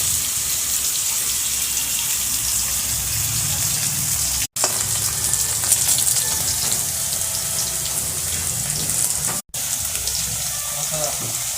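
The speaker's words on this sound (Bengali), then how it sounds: "আমার দিদি ভাজছে" Steady, dense sizzling of vegetables for Bengali shukto frying in hot oil continues throughout, with faint voices and a few kitchen clatters underneath.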